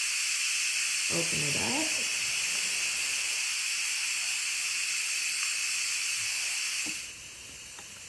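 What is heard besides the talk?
Instant Pot pressure cooker releasing steam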